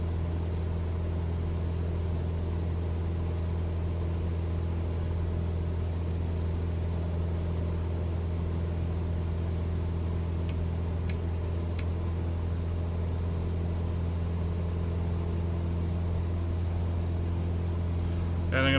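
Steady, loud droning of a Cessna 172 piston engine heard from inside the cabin in level flight being throttled back, a continuous hum with strong low harmonics filling the whole stretch, faint voice in the background.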